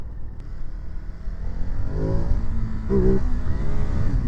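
A 2021 Ducati Monster 939+ motorcycle revs and accelerates hard in an attempted wheelie, its engine note rising steadily and then briefly cutting as traction control interrupts the power, heard fairly close with no talk.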